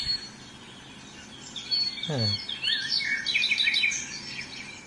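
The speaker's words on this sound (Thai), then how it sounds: "อันนี้ผมเปิดเสียงนก" Birdsong played from a relaxation sound app on an Android phone (Wuzhi Audio App): scattered high chirps and tweets with one clear downward-swooping call, a soft, steady loop with no talking.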